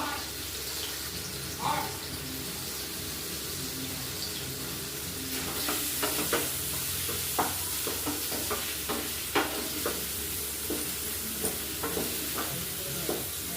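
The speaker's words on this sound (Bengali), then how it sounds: "আলুটা আগে থেকে একটু সেদ্ধ করে নিয়েছি, হলুদ দিয়ে এটা ভেজে নেবো।" Parboiled potatoes fry in turmeric and oil in a village kitchen, a steady soft sizzle with repeated spatula stirs and scrapes tapping through the second half, no voices heard.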